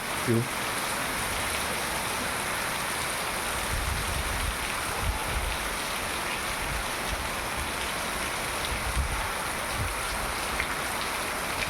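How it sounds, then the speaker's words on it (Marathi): Heavy monsoon rain pours down on a Konkan village at Munge, Devgad, a steady dense roar of rainfall on surfaces that stays loud and unbroken throughout, with no voices over it. "पहिला कोकणातील मुसळधार पाऊस दुपारचं एक वाजले आहे देवगड मुनगे गावी मुसळधार पाऊस तुम्ही बघू शकता"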